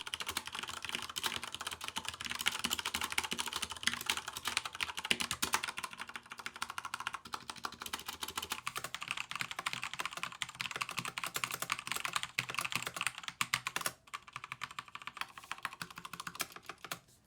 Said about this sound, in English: here's a quick sound test of both keyboards, the V770 using Kale Reds and the K95 Platinum using Cherry MX Browns